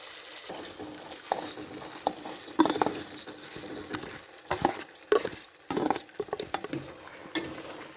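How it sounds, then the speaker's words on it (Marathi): Soaked rice being stirred into chicken gravy in a pot for chicken pulao, with irregular scraping and clattering strokes of a spoon against the pot over a soft sizzle, fairly close and without talk. "आता हे छान असं मिक्स करून घ्यायचा"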